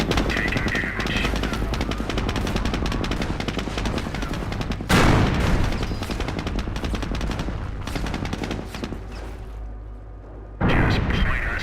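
Dense, continuous machine-gun and rifle fire with heavy artillery booms from a Company of Heroes battle, loud and sustained, briefly thinning before resuming, with unit voice callouts mixed in.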